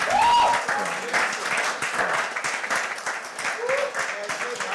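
Audience clapping for Prof. Bode Omojola at a book celebration in an organ house, a steady round of applause with scattered voices calling out underneath.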